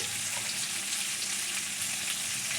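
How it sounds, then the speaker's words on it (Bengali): Potatoes fry in a pan for a Bengali mutton dish, giving a steady, dense sizzling hiss that stays even throughout, close and fairly loud, with no voices. "এদিকে আমি আলুটা ভেজে নেবো"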